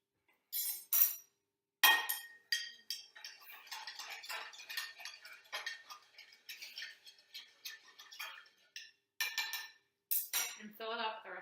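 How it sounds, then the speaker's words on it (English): A spoon stirring a drink in a glass, a run of light rapid clinks and taps against the glass, close and fairly quiet, with brief pauses and no voices. "And fill it up the rest of the way. And stir again."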